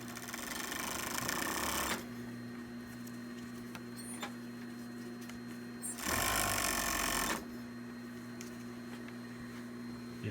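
Serger overlocking the edge of a thick 6-point Hudson Bay wool blanket, its side knife trimming as three threads wrap the edge; two loud bursts of rapid stitching about five seconds apart, with a low steady hum between them.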